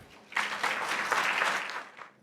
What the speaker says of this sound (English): please welcome with a hearty round of applause